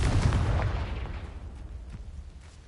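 Confringo spell explosion in the video game Hogwarts Legacy: a loud, deep booming blast that rumbles and fades over a couple of seconds, leaving faint crackles behind.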